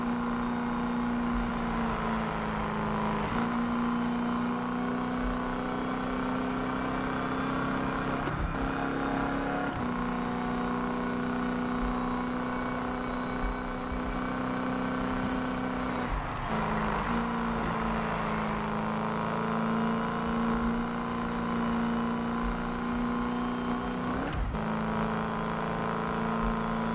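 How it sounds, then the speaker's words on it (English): A car engine in a PS4 racing game, upgraded and tuned, drones steadily at high revs throughout, its pitch dipping and climbing as gears shift every few seconds, loud and continuous with no talking. "I physically can't get over the fact that the engine sounds like this the more you upgrade it."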